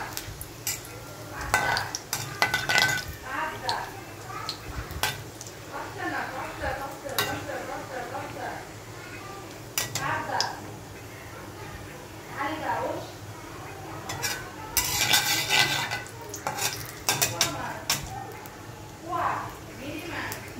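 Cut dried red chilies and cumin seeds frying in hot oil, a low sizzle with frequent spatula stirring and scraping and light clinks against the pan, while a voice talks over the cooking.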